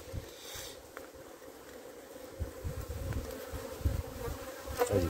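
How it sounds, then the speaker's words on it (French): Honeybees buzz steadily around a hive in a dense, continuous drone, with a few louder passes of agitated insects flying close by. "j'ai toujours les abeilles de la deuxième ruche qui sont pas contentes"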